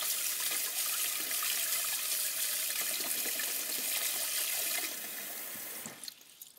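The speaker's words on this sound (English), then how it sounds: "you're neutralising it under the water like that" Tap water runs steadily over an acid-etched aluminium lightsaber hilt, a close, even splashing rush that cuts off near the end.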